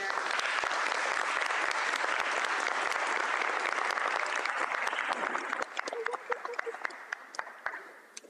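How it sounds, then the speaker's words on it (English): Audience applause at a law school signing day event, a dense sustained clapping wash that thins into scattered individual claps toward the end, with faint voices underneath. "One more round of applause, please."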